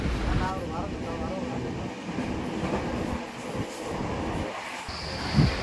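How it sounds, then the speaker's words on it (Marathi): Passenger train running at full speed just past Karjat: a steady, loud rumble of wheels on rail with faint clickety-clack, heard from inside the carriage with voices murmuring in the background. "ट्रेनने स्पीड फुल स्पीडमध्ये आहे."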